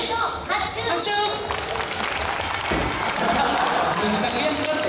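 A live crowd applauds the winner of a mascot portrait contest at a baseball stadium mini-stage between Chunichi and Chiba Lotte, with dense clapping and cheering mixed with loud talk from a presenter over the sound system throughout.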